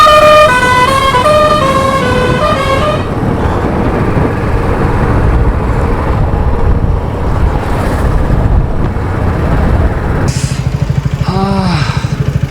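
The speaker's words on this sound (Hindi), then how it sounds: "मैं हॉर्न बजाने को बोलूँगा, बड़ा सही जैसा हॉर्न था ऐसे" A truck on an Indian roadside plays a loud, close, musical multi-tone horn in a rising and falling sequence, followed by heavy engine and traffic rumble with a brief siren-like wail near the end.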